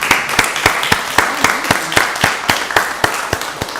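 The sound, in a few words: audience applause at a county board meeting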